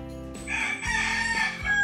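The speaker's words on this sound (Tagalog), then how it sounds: "Ayun, meron pa nga manok." A rooster crows loudly and close by at a night spot in the Philippines, giving one long drawn-out call with a low rumble underneath and no talking.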